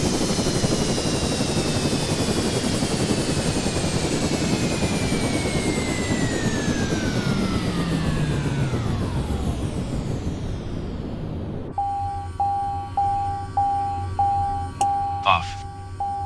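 An aircraft engine in Microsoft Flight Simulator winds down from idle after cutoff, its whine sliding lower until it fades. A repeating electronic beep follows at an even pace.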